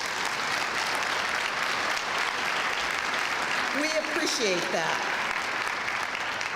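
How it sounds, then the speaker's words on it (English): Banquet audience at an education awards gala applauds table sponsors with steady, full clapping; someone briefly speaks over the ovation near the middle as it continues. "Let's give them a big hand of applause."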